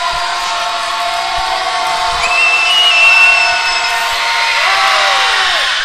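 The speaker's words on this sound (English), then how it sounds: "You can tell just by listening to the crowd." A loud crowd roars and cheers in a big arena at a high school basketball game, sustained noise with whistles and shouts rising and falling, no distinct talk.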